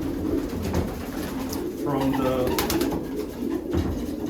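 Pigeons coo softly in a loft, low repeated throaty calls from several birds close by, with wing flutters and someone talking over them.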